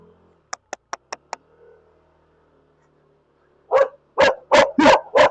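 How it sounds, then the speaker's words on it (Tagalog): Several dogs on a street in Barangay Gibraltar, Baguio City: a quick run of five light taps comes first, then after a pause a close, loud volley of about five barks. "Daming aso."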